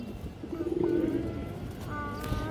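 Pigeons coo softly, a low rolling call rising mid-clip over faint background chirps and room noise.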